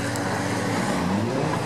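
A demolition derby car's engine revs steadily as it pulls away at a county fair arena, a continuous mid-distance motor drone with crowd and track noise around it.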